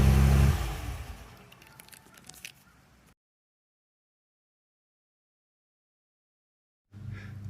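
A 2011 Ford F-150 with a leaking exhaust flex pipe rumbles loudly at first, then its engine note fades away before a sudden cut to silence; after a long gap the running engine returns at a steady moderate level.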